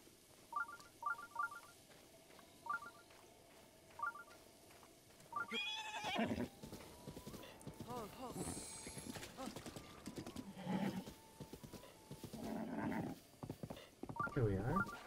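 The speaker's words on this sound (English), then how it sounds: "Sneak up on the horses." Horses in the video game Zelda: Breath of the Wild: soft rhythmic hoof clip-clops with game chimes, then a closer burst of hooves and neighing, with someone talking over the in-game sounds.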